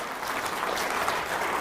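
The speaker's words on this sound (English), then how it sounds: "Let's give a round of applause for this." An audience applauds with steady, dense clapping that holds at an even level throughout the short stretch.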